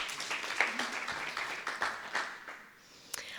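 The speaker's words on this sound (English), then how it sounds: "So please, round of applause." An audience at a community celebration gives a round of applause, a moderate patter of clapping that fades out toward the end.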